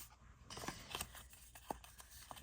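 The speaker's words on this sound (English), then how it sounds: "when I'm cutting the black paper" Quiet, close snips of scissors cutting black paper for a bookmark, a few short crisp cuts scattered with soft rustling in between.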